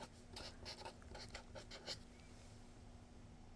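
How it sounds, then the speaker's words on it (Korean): A pen writes out a discount-rate formula for a math lesson, faint scratchy strokes in short bursts over a quiet hum with no one talking, then the room goes still. "그 공식도 한번 써보겠습니다."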